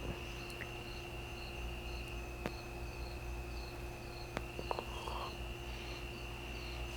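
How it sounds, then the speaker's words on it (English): Crickets and cicadas sing outdoors at night, with a constant high drone and a faint, evenly pulsing chirp repeating throughout, plus a few soft clicks in the quiet background. "I'm sure you can hear the crickets and cicadas and all that."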